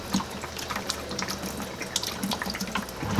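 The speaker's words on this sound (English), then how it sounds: "water's flowing exactly where I figured it would" Water drains steadily from a disconnected water heater line, a close continuous splashing gush with small irregular spatters, no voices over it.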